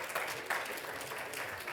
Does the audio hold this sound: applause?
yes